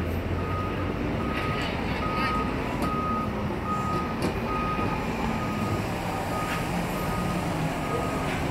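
Repeated reversing beeps ring out at a steady rhythm from an FDNY tiller ladder fire truck backing in on a SoHo street in Manhattan, New York, over a constant rumble of the heavy truck's engine and city traffic.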